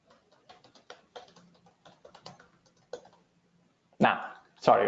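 Typing on a computer keyboard during a live Kubernetes database demo, light scattered clicks in quick bursts, close but faint, followed by a couple of louder knocks at the end.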